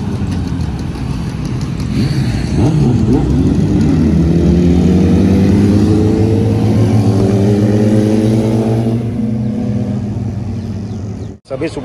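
A Kawasaki H2 superbike engine revving loud and close, its pitch rising and sweeping up and down through repeated throttle blips before cutting off abruptly near the end.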